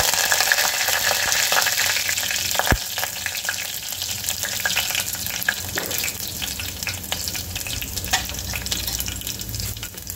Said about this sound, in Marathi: आणि कढीपत्ता घालून घ्यायचा आहे.